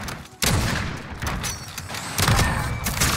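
Gunfire in a shooter video game, a dense, loud burst of shots and booms filling the whole stretch, with a brief drop before the firing swells again.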